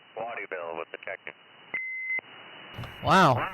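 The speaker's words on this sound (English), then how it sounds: "Not hearing him I heard the Roger beep." A roger beep on a CB radio transmission over channel 37 lower sideband in Maine. A short steady tone closes a burst of garbled radio speech, and another voice follows soon after.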